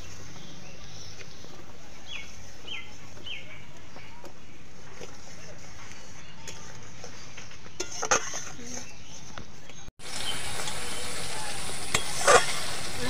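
Spice paste with ajwain fries for a katla fish curry in a pan, a steady sizzle with occasional stirring scrapes, then turning suddenly louder and brighter near the end.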